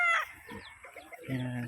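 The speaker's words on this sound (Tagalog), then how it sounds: "So, ito din po mga manok guys." Farm chickens cluck in short bursts while a rooster crows briefly near the start, fairly close, with someone speaking a word over the birds.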